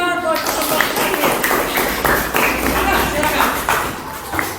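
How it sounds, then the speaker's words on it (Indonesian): A classroom group claps for the last group, a dense patter of hand claps from many people over a few seconds, close and fairly loud, with voices talking over it. "Kasih tepuk tangan buat kelompok terakhir."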